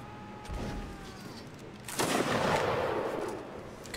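Musket gunfire in Mount & Blade: Napoleonic Wars during a siege battle, a few distant shots followed by a louder burst of overlapping volley fire with rumbling echo.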